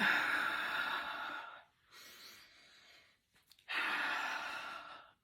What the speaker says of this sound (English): we're going to breathe with the motion